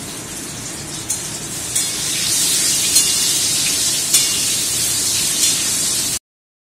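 Food fries in a pan with a loud, steady hiss and crackle that holds throughout, with a few sharper pops, then cuts off.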